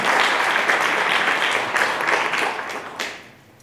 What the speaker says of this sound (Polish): Wielkie brawa. Zapraszamy.